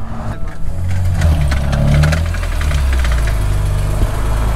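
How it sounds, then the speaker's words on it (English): A BMW E30 with a broken axle sits with its engine running, a loud close rough idle with knocking vibration and a rattling mechanical clatter over a low steady rumble. "Yeah, the axle's spinning and the wheel's not."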